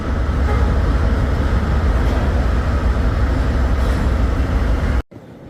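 California Zephyr passenger train arriving in Chicago in winter, heard from aboard as a steady, loud rumble and rattle that cuts off abruptly near the end, leaving quieter interior hum.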